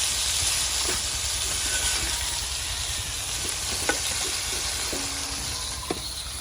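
A small-fish curry sizzling and hissing steadily in a pan on a stove, close and constant, with a few faint clinks and stirring sounds and no talk.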